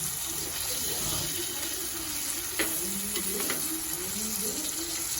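Brinjal and okra sauté in a pan with a constant close sizzle and a few faint stirring scrapes underneath.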